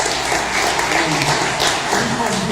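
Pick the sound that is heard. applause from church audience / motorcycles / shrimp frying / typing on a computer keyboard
applause from church audience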